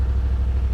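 A 2021 Yamaha Wolverine RMAX2 1000 Limited Edition side-by-side engine gives a brief, close, low throbbing rumble with an even pulsing beat, loud and alone.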